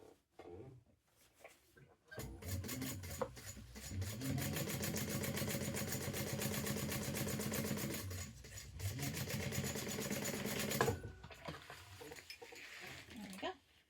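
Sewing machine top stitching across fabric, a steady close mechanical whirring hum running for about nine seconds, starting and stopping with brief quiet gaps at each end.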